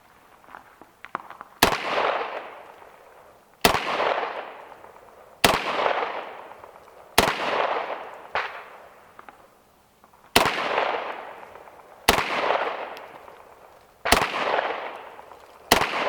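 Eight loud, sharp shots from a 10mm pistol, fired one at a time about two seconds apart, each cracking hard and trailing off in a long echoing decay. There is no talk between them.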